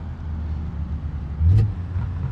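A Lada 2101 Turbo engine runs in the BeamNG Drive video game with a close, steady low rumble. The idle swells briefly into a short rev partway through, and no one speaks.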